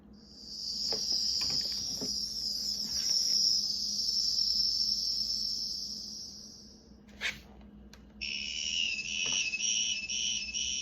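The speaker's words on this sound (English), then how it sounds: "This is supposed to be the sound of a cicada" A high, shrill cicada buzzing drone sustains for several seconds, breaks off, then resumes in a pulsing insect chorus, heard faintly with light clicks.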